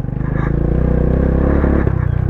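A new Honda Click version 3 motorcycle rumbles loudly and steadily as it is ridden over a bridge, its engine note holding close and constant with brief scraping clatter near the end.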